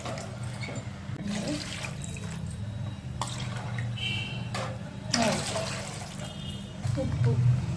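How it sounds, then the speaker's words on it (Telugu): Water poured from a cup into a pan for rava upma, three cups for one cup of semolina, gives a continuous splashing, trickling wash with a few louder surges, heard close up and steady throughout. "ఈ వాటర్ 1 కప్పు రవ్వకు 3 కప్పుల నీళ్ళు పోస్తున్నా"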